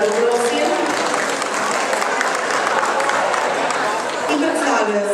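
Audience applause at a CACIB international dog show in Vrtojba, a loud steady wash of clapping lasting throughout, with crowd murmur and voices mixed in.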